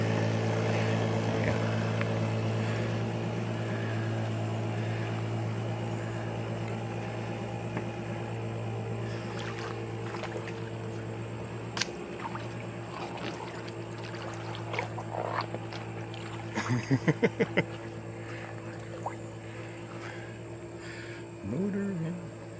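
An abandoned 1960s mid-engine mini boat's old motor runs with a steady low droning hum, joined by a few sharp clicks and thumps near the end, with no talk over it.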